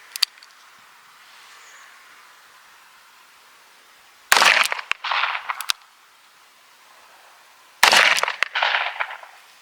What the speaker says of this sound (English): First round we got a 38 special plus P. Second round we got a 357 magnum.